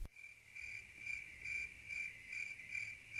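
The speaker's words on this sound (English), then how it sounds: "Quiet cricket." A quiet cricket chirps in the Pocoyo PlaySet learning game, a faint, even series of short trilled pulses repeating in a steady rhythm with no other sound.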